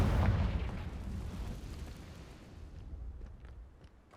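A booming blast from the Confringo fire spell in the Hogwarts Legacy video game, cast in an Acromantula cave: a loud, deep burst at the start that rumbles and slowly fades over several seconds.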